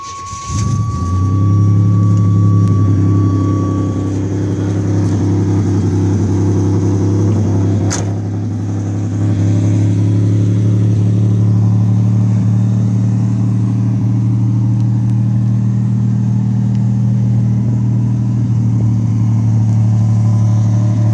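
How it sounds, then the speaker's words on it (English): A 1986 Buick Grand National, due for a tune-up, cranks and fires, then settles into a loud, steady idle with a deep, even engine drone close by, with one brief sharp click partway through. "Let's give her a start up so you can hear her run."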